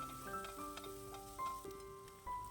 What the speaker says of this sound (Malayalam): ഇനി സവാളയൊന്ന് വഴറ്റിയെടുക്കണം.